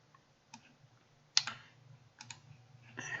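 A few soft, close computer mouse clicks, one sharper than the rest, in a quiet room with a low hum underneath and no talking.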